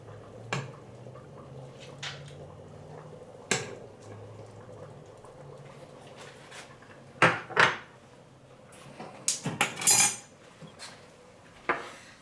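Chicken tortilla soup is ladled into a bowl with scattered clinks of spoon against dish, soft liquid splashes and a low simmering bubble beneath, the knocks irregular and close.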